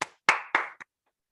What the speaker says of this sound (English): please give a big round of applause for Serena Piper